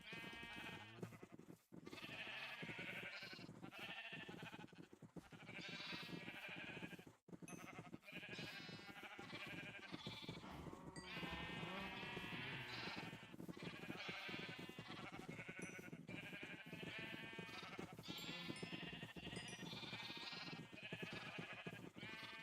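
Sheep in the Minecraft video game bleat repeatedly and loudly, with overlapping calls running nearly continuously over a dense, steady layer of game sound.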